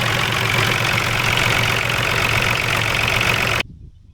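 A John Deere 5300 tractor engine, just fitted with a new water pump, idles loudly and steadily up close with a rough, knocking rumble, then cuts off abruptly near the end.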